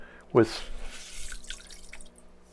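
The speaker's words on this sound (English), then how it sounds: "letting it siphon through my hands, the water, and just putting it right back into the tank" Aquarium water and old gravel let through the hands and back into the tank during a plenum build. One close splash is followed by quieter trickling and dripping.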